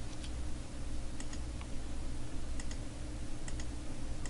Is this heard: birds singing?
no